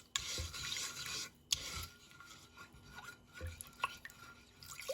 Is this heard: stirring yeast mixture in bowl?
yes